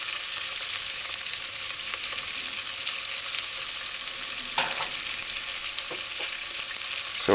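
Chicken lo mein vegetables and sauce sizzle hard in a hot pan during stir frying, a loud, continuous hiss with occasional clinks and scrapes of stirring, no voices.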